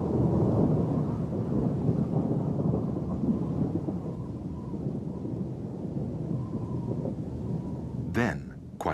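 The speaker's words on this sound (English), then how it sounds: "Until it escalates and turns into a full-blown storm." Thunderstorm with heavy rain in black eagle mountain habitat, a steady loud wash of rainfall and rumbling thunder throughout, with a brief sharp crack near the end.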